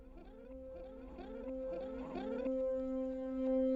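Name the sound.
reversed guitar tail used as a riser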